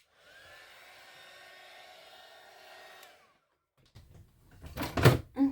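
A hair dryer blows steadily for about three seconds to dry paint on an altered book page, a soft even whir that cuts off, followed by a few quiet knocks and handling clunks close by.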